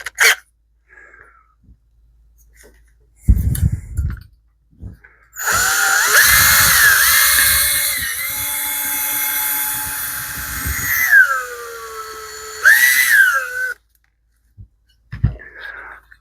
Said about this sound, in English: drill out the rivets that hold the gauge face in place